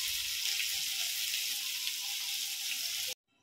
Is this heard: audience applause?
no